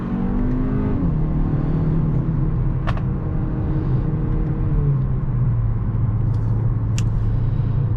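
A 2021 Hyundai Elantra N Line accelerates hard with traction control off, its engine revving loudly and steadily through the power band around 3,300 to 3,500 RPM, a continuous close rumble with rising and shifting tones and no talk.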